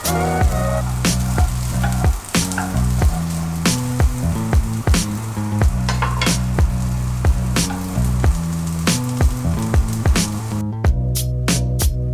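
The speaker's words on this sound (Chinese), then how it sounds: "将鹰嘴豆倒入锅里，用中小火干炒大约10分钟" Chickpeas dry-fry in a pan over medium-low heat, making a continuous close crackling sizzle with scattered pops, heard beneath rhythmic background music.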